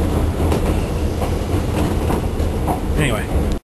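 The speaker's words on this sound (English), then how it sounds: "Now I'm on the train." A passenger train bound for Fukushima rumbles along steadily from inside the carriage, a loud continuous roar with rhythmic wheel clatter and a brief squeal near the end, with faint talk beneath.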